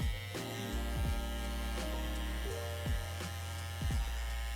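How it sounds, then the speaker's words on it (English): An electric hair trimmer buzzes with a steady electric hum during a fade haircut, its pitch dipping briefly several times as the blades meet hair, fairly quiet and with no talk. "Don't drag the trimmer too much, because like I said, you don't want to scratch your client."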